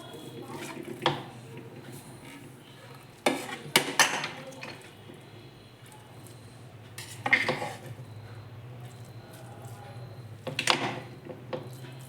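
Tomato bath is mixed in a pot, and a spoon clanks and scrapes against the metal in four separate bursts with quieter pauses in between, close by.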